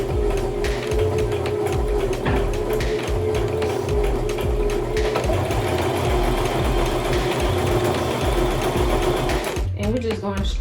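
A sewing machine runs steadily forward in a straight line, its loud, fast rhythmic stitching filling the clip close up before stopping near the end; a voice talks over it.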